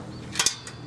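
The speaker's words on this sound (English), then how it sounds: "Let's get the socket wrench." Socket wrench ratcheting on a bicycle nut makes a few quick, close mechanical clicks in a short burst.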